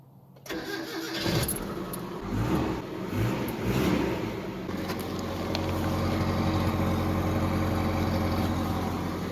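A 1991 Mitsubishi Mighty Max pickup cranks and fires up, revs roughly for a few seconds, then settles into a steady, close idle through its exhaust.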